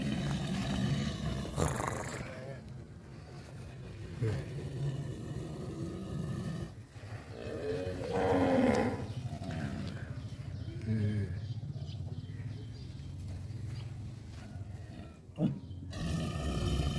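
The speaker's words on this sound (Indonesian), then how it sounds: "Sapi berasa singa." A cow bellows deep, growling roars that sound like a lion. It is heard outdoors over a steady rumble of background noise, with several long bellows and faint voices nearby.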